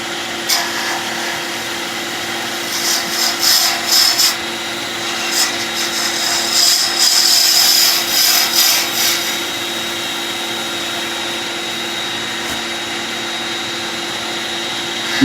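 A polyester or acrylic pen blank is scraped on a wood lathe, giving a continuous motor hum with rising patches of rough hissing scraping and rubbing in the middle.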